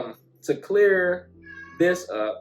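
A pet cat meows several times in the background of a room, the calls overlapping with a person talking in the foreground.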